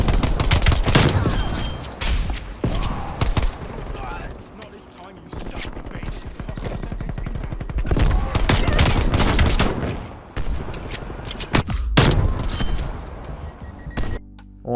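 A pistol fires in a video game at a rapid clip through a controller rapid-fire mod, dense bursts of loud crackling shots over nearly continuous battle noise.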